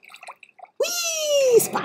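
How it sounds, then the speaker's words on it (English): A splash into water in the Minecraft video game, a short bright liquid burst after a few quiet clicks, with a sustained tonal sweep over it. "Whee! Splash."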